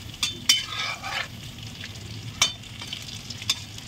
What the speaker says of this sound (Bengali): দেখুন বন্ধুরা কত সুন্দর পাকোড়াগুলো আমি ভেজে নিচ্ছি।